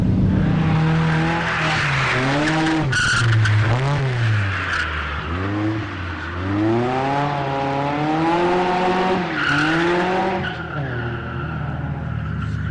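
The Fujiwara Tofu drift car, running a stock 16-valve four-cylinder engine, skids with long sustained tire squeal rising and falling against steady engine roar, loud and close through the whole run at a drift event.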